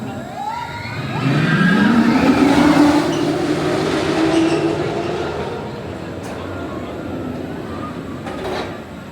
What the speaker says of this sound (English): you're just watching Red Force take off